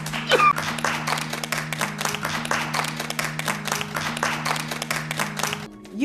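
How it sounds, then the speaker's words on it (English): A round of applause with steady, closely spaced claps over a sustained background tone, fairly even in loudness, cutting off shortly before the end. "Let's all give them a round of applause."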